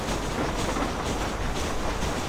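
A train ridden in the video game Red Dead Redemption, giving a steady, dense rumble of wheels and carriage noise with faint rhythmic clatter, constant and fairly loud throughout.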